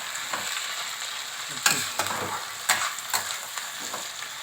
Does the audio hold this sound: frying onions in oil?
yes